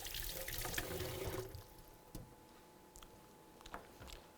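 A peeled onion rinsed under a running tap, a brief close splash of water that stops after about a second and a half, followed by faint clicks and small knocks.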